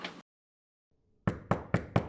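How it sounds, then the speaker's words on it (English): Four firm knocks on a door, evenly spaced and close, after a brief burst of sound and a short silence. "let's knock on the door"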